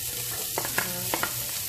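Onions fry in oil in a wok for chopsuey, giving a steady close sizzle with a few sharp stirring scrapes and clicks near the middle.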